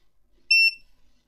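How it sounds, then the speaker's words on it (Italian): A multimeter in continuity mode gives one short, clear high-pitched beep while a secondhand spare part is tested, alone in an otherwise silent moment. "In continuità con il bip."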